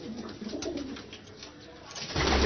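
Lahori pigeons in a breeder setup give soft, close cooing calls over a low room hum, with a brief burst of rustling or wing noise at the end.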